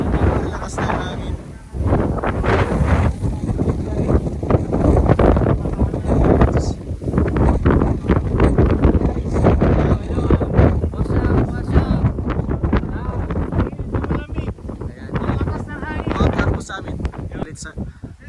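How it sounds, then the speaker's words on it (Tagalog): Strong wind buffets the microphone on the summit of Mt Apo, a loud, continuous, gusty roar that lasts throughout, with people talking faintly underneath. "Lakas na yung hangin."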